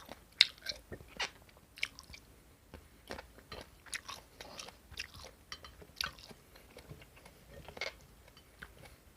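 Someone chewing raw glass shrimp soaked in fish sauce with fresh vegetables and cherry tomatoes, close and quiet, with irregular wet crunches and bites repeating steadily throughout.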